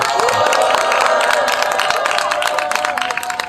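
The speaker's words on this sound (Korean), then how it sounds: "한 번 더 힘찬 박수 보내드리겠습니다" An outdoor rally crowd claps and cheers after a song at a street performance, with scattered crisp claps over murmuring voices that taper off toward the end.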